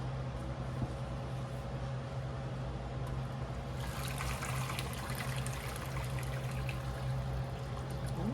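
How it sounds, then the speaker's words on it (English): Turkey broth is strained, and liquid pours in a steady trickle that swells into a louder, splashing stream partway through. "let's strain off this broth."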